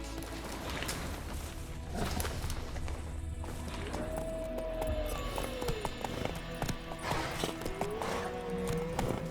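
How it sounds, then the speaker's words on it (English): Roach the horse galloping in The Witcher 3 video game, a fast rhythmic clip-clop of hooves close up with a few whinnies and snorts mixed in over background game sounds. "Run, Roach."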